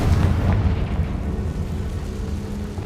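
Confringo spell explosion in the video game Hogwarts Legacy, a loud deep boom that rolls out into a rumbling, crackling decay over a few seconds.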